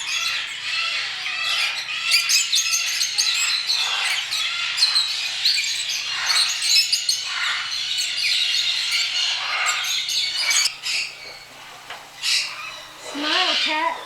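Parrots at the Foster Parrots sanctuary squawk and chatter nonstop, harsh close calls overlapping with shrill chirps, with a few louder squawks standing out near the end.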